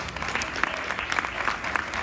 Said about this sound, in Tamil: திரு ராஜ் சண்முகம், உங்களோட கரகோஷம் தான் அதை வந்து அவங்கள ஊக்குவித்து நினைக்கிறேன்.